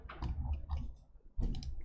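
Faint mouse clicks tap in a quick irregular cluster, pause, then come again in a second burst. The clicking comes from a computer mouse being used in Photoshop, recorded quietly and close to the desk with no speech.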